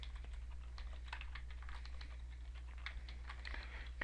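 Quiet, rapid keystrokes on a computer keyboard while entering text into an Excel spreadsheet, irregular light clicks over a low steady hum, no talking.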